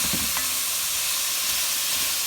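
Beef browning in a soup pot gives a steady, loud hissing sizzle that fills the whole moment without pause, close up and alone.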